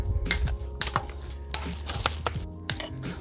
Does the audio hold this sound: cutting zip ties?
yes